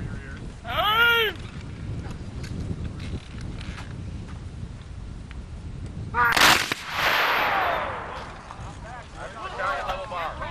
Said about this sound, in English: Every single man fired. All those bullets are going downfield.